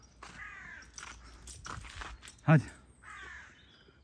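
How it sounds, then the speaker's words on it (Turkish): A crow caws while following walkers on a path, with one loud, close, sharp call standing out amid nearby talk and footsteps. "Karga da bizi takip ediyor efendim."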